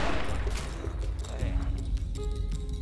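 A scoped bolt-action rifle fires in the video game Blade and Sorcery Nomad, a single loud, close shot at the very start that rolls into a long, rumbling decay.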